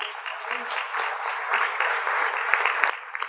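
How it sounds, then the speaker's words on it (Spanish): A church audience at a family forum claps in a soft, band-limited wash of applause, steady and moderately loud, with a few sharper individual claps near the end. "¿Por qué no le damos un aplauso al Señor?"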